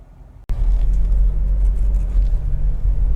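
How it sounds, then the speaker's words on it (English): A Honda CR-V 2.0 i-VTEC Executive five-door's engine runs with a steady, loud low rumble that starts abruptly after a brief quieter moment and holds constant without speech. "this is a road test video, and this is for a Honda CR-V 2-litre executive"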